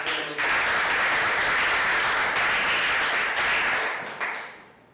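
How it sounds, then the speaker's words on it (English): Sustained audience applause at a high school poetry awards ceremony in New York City, a dense, loud wash of clapping that starts abruptly, holds steady for several seconds, then tapers off. "Let's give another round of applause for Draimely."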